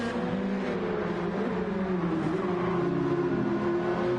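Race cars lapping Brands Hatch in Gran Turismo 7 give a steady, close engine drone with sustained pitch and slight rises and dips, without a pause over the short stretch.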